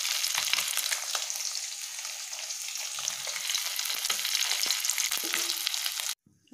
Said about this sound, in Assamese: এয়া মাছখিনি ফ্ৰাই কৰি আছোঁ